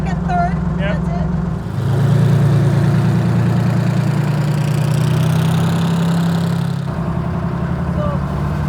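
A 1948 COE dump truck fitted with a Detroit Diesel V12 idles steadily in park, a continuous deep rumble with a slight drop and lift in pitch as it settles, close and loud throughout.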